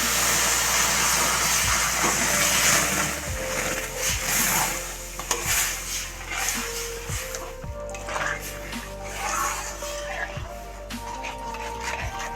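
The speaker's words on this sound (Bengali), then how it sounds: "ভালো করে নাড়তে হবে।" A semolina and coconut sweet with sugar and water is stirred in a pan over a steady hissing simmer, with the spoon repeatedly knocking and scraping the pan in an uneven rhythm throughout.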